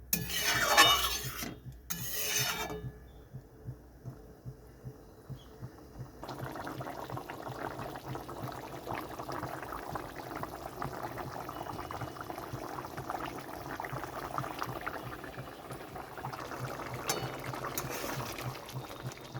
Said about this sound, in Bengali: ওখানে ঝোলটা খুব ভালো মতো ফুটে গেছে